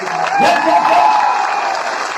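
A burst of audience applause, many hands clapping at once, loud and close, tapering slightly toward the end.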